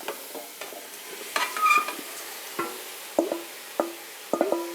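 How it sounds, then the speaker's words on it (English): Chopped vegetables for a cheese tortellini pasta salad sautéing in a pan, a soft sizzle under repeated spoon scrapes and stirring clinks at irregular intervals, close and moderately loud with no voices. "And this is gonna saute for a good, I would say 8 to 10 minutes"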